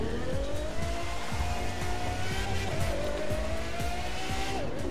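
A Pagani Zonda R supercar races in The Crew 2, its loud, steady engine whine climbing and dropping through gear shifts, with tire squeal and rhythmic track noise running under it throughout.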